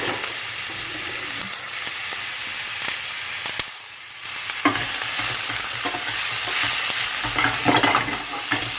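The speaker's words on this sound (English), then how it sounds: "So we just get a spoon out and move that around." A spoon stirs sausage meatballs frying in hot oil in a pan, giving a steady close sizzle with scraping and clinking touches and a brief dip midway.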